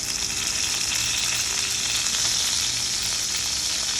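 A ribeye steak sears on its side in a hot pan, giving a loud, steady, continuous sizzle and frying hiss that holds evenly throughout with no talking.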